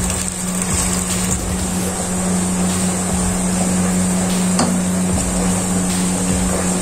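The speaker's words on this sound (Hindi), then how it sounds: "इसको मैं 2 मिनट तक फ्राई करती जाऊंगी" Chopped onions frying lightly in a pan for an aloo baingan curry: a steady, close, broadband sizzle with a low hum underneath, continuous and even throughout, with no voices.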